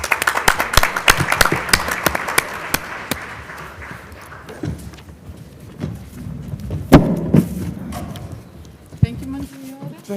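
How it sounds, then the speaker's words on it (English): Conference audience applauds the speakers at a ministerial meeting on ageing, dense clapping in the first seconds that thins into scattered claps, thumps and room noise, with brief voices near the end. "a round of applause again for the speakers"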